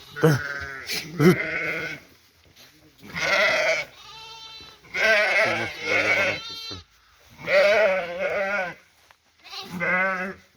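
A ewe and her lambs bleat on a farm on a foggy winter day, with five loud, close, wavering calls separated by short pauses.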